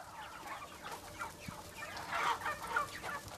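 Chickens cluck steadily in a busy farmyard chorus, several birds overlapping at close range with no talking.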